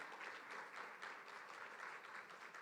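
A large audience at a formal event applauds to welcome Gujarat Chief Minister Bhupendrabhai Patel. The clapping is dense and sustained, with no voices over it.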